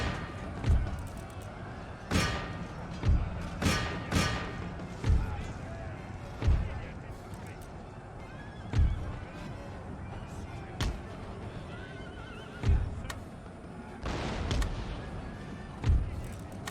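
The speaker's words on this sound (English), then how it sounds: "Oh, my cannons got engaged." Cannons fire during a battle in the strategy game Empire: Total War, a series of separate booming thuds roughly every second or two, moderately loud over a steady battlefield din.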